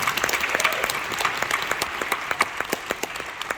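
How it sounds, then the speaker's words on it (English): An audience at a comic con Q&A session applauds, a steady patter of many hands with individual claps standing out near and distinct over the crowd. "let's give her a round of applause"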